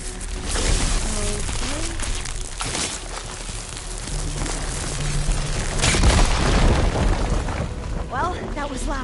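A fire gleam explosion goes off in Horizon Forbidden West, heavy rumbling booms and bursts rolling on for several seconds amid game music and effects, with a voice talking over it.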